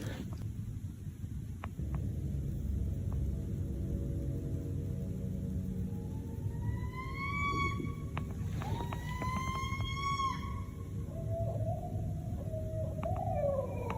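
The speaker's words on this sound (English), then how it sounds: "Pretty sure that's a porcupine." Harmonic rising wails and whines from a porcupine vocalizing in the wilderness, several drawn-out calls in the middle of the clip over a steady low rumbling background noise, moderately faint and with no talking.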